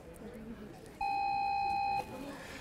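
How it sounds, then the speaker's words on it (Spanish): One sustained electronic alarm beep rings clearly for about a second, loud over a background where someone talks faintly. "Sonó la alarma, ño Purpurita."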